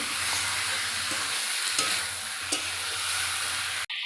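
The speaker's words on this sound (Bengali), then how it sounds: "তারপরে ভালো করে নেড়ে চেড়ে নেব" A ginger, garlic and cumin paste is stirred in a frying pan with steady sizzling and the soft scrape of a spoon, continuous and close, broken by a few light clinks.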